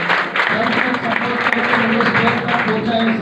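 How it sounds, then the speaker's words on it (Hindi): An audience applauds at a business gathering, moderately loud, continuous clapping that runs the full length, with a voice faintly present underneath. "इससे मेरे गुरु वीरेंद्र साहू सर के लिए एक बार जोरदार ताली होनी चाहिए।"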